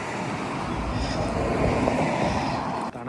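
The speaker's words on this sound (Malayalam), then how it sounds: "ഈ കാറ്റിന്റെ സൗണ്ട് നിങ്ങൾക്ക് കേൾക്കാൻ പറ്റുന്നുണ്ടോ എന്ന് എനിക്കറിയില്ല" Cold outdoor wind buffets the microphone in freezing weather, a steady full roar for about three seconds before cutting off abruptly.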